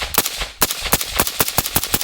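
A suppressed PSA JAKL rifle fires a rapid run of sharp, evenly spaced reports, loud and close, each shot with a brief tail before the next.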